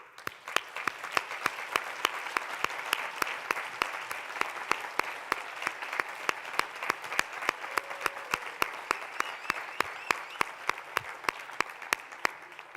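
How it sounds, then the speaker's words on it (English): Sustained applause from a crowd at a hotel school closing ceremony, dense continuous clapping with a few sharper nearby claps standing out, loud and unbroken throughout. "we owe you all huge rounds of applause"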